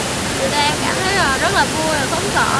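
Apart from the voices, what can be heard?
Giang Dien waterfall roaring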